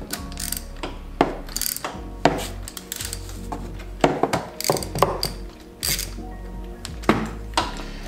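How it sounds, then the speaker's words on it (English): Socket wrench clicking as it is fitted and turned onto a spark plug, giving a series of close, sharp mechanical ratchet clicks in uneven bursts over a low background tone, with no talking. "get your socket ready here, and should be able to get right on there"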